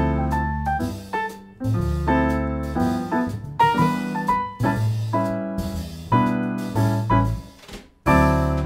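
Recorded jazz song playing on its own, with a mid-tempo, swinging run of clear melodic notes over steady bass and accompaniment, loud and full, with no talk over it.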